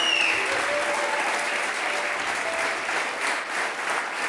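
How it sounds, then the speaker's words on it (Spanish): A church congregation applauding, dense steady clapping from many hands filling the room at an even loudness throughout. "Aplaudile al Señor"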